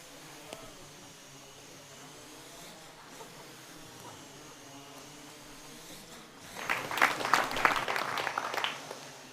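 A small quadcopter drone hums with a thin, insect-like buzz of spinning rotors, then surges into a louder, rapid whirring burst near the end as it strikes a ball, heard in a large hall with faint crowd murmur.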